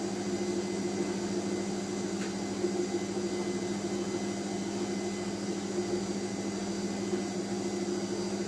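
A kitchen machine runs steadily, mixing a spinach and celeriac mousse, with a constant motor hum at even volume throughout and no voices.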